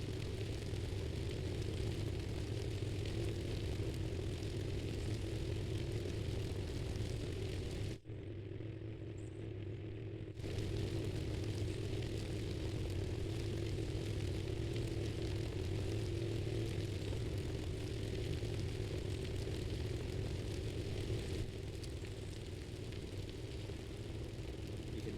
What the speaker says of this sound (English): He gets on the motorcycle and returns to quarters.